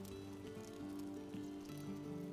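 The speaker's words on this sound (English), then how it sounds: "Nice rain." Steady rain in the video game Valheim, a continuous wash of soft patter layered with sustained tonal game music, alone with no talk.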